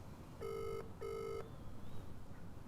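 Two long electronic ringback tones with a short gap between them, heard on the caller's end of an outgoing phone call to a UK mobile number, followed by quiet line noise.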